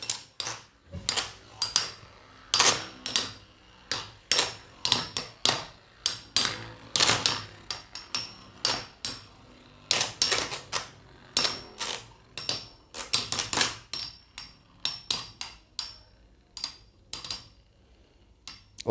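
Burn Phoenix and Burn Sagittario metal Beyblades clash in a stadium, giving sharp, loud metallic clanks and clinks in quick irregular bursts with short gaps between them.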